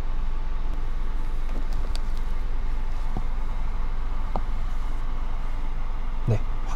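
A Daehan Automobile Rebella Air Pulse ventilated car seat fan running at its lowest level 1 inside a car, giving a faint, steady airy hum beneath a few soft clicks and taps.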